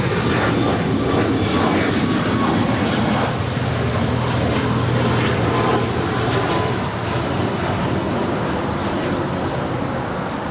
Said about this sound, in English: This next departure is Alaska Airlines 249 departing to Austin on a 737 MAX 9.